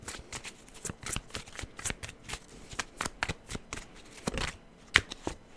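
Tarot cards shuffled by hand in a steady run of soft riffling bursts and taps, close and fairly quiet, with no talking.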